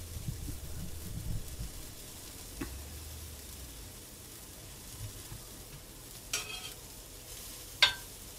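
Low, steady sizzle of pawpaw pancake batter frying in a pan, quiet and continuous, with a few faint scrapes and clinks of a utensil.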